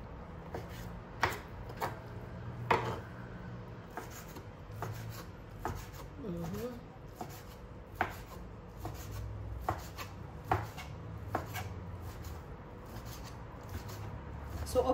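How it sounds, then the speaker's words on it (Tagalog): A knife chops ham into small pieces on a cutting board, a quiet, fairly regular run of sharp taps with soft rubbing and scraping between them, close by and with no talk over it. "May binili po ako rito ham. Hiwain po natin ng maliliit."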